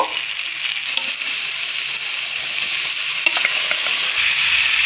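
Chicken pieces frying in a sizzling spice paste, a loud continuous hiss with faint scattered crackles and light stirring, steady from start to finish with no voices.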